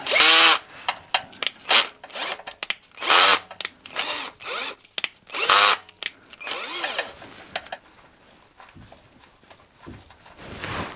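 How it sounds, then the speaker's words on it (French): A cordless power drill driving screws into a Renault Twingo car part, tightened in a crosswise pattern at the lowest torque setting; several short whirring bursts start and stop in an uneven rhythm, close and fairly loud, then fade to quieter handling. "il faut mettre toutes les vis. Donc je les mets plus ou moins en croix"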